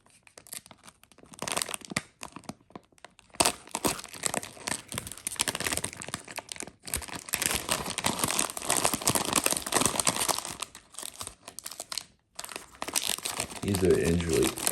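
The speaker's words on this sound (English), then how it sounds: "These are individually packed candies. Get this open here." Crinkling and tearing of plastic wrappers on individually packed Studio Ghibli candies, sustained rustling with brief pauses, up close, with a person talking over it.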